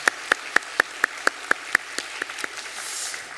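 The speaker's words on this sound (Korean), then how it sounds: "우리 박수로 격려하도록 하겠습니다" Applause from a church congregation during a Sunday worship service, a few slow, evenly spaced loud claps that give way to lighter, scattered clapping from the room.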